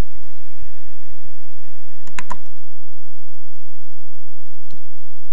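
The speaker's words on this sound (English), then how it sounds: "Just click straight away on the Find It at DMU button." A computer mouse button is clicked on a library website, giving a quick pair of sharp clicks that stand close and clear over quiet background hiss, with a fainter single click a little later.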